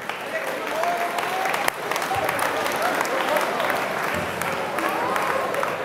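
Audience applauding at a live German improv and body-language stage show, steady dense clapping across the whole stretch with a few voices calling out over it.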